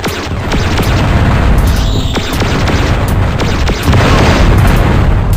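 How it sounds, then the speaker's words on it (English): Missile explosions in the video game Descent, Level 4: a dense, continuous roar of booming blasts fills the scene, with sharper bursts near two and four seconds over a steady low rumble. "Got him! Another successful missile attack."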